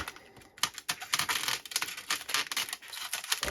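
Packaging on a new egg incubator being torn and unwrapped up close, a dense run of crinkling, tearing and rustling with sharp ticks, fairly loud and continuous, with no voice.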